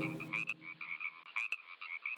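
A frog croaks in a rapid series of close, distinct calls, the repeated pulsing notes standing out clearly against a quiet background.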